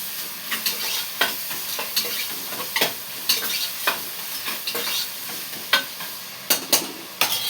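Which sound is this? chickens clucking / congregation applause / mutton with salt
mutton with salt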